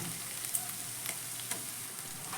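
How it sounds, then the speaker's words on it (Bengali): Ginger and garlic paste frying with onion in a pan while making an egg curry, giving a steady, close sizzle with soft crackles and occasional stirring scrapes, with no talking. "আদা রসুনটাকেও পেঁয়াজের সঙ্গে ভালো করে আমি ভেজে নেব"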